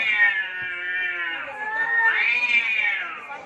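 A cat gives a long, loud, wavering meow that rises in pitch near the end, close to the microphone and with no voices over it.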